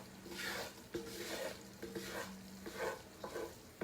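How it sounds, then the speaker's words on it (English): Roux for beef stew is stirred constantly in a pot over fairly high heat, giving a quiet, rhythmic scraping swish that repeats about once a second over a faint sizzle. "with a roux, you gotta stir it, especially because I got the fire kind of up a little bit so it don't burn"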